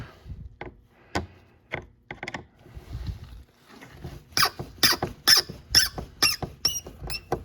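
Sharp plastic squeaks and creaks come from a 2012-2017 Toyota Camry driver door panel being pried off, starting as scattered clicks, then a rapid rhythmic run of loud squeaks close up.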